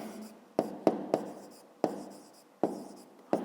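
A pen writes on paper during a fifth-grade maths exercise: short, distinct scratching strokes come in irregular bursts, close and clear, with no talking.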